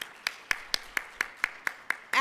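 Clapping at an investment managers' forum, in a steady, evenly spaced beat of about nine sharp claps with no talking.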